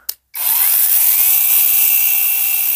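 A cordless pruning saw starts up after a brief click and runs steadily at high speed, loud and close, a continuous whining motor buzz as it cuts into an apple tree branch in a garden.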